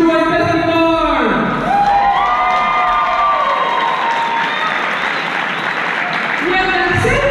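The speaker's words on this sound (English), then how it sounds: "please give an enormous round of applause to the Sonic Siren Triple Joy Bethany Moore!" A large convention crowd at a cosplay circus show roars with loud applause, whoops and high-pitched shouts, sustained cheering and clapping filling the room close and dense for several seconds.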